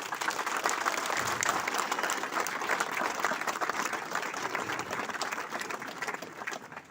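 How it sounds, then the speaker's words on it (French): Audience applause at a cheque presentation ceremony, a dense, steady rain of many people clapping, fairly distant and even, sustained for several seconds. "On peut les applaudir."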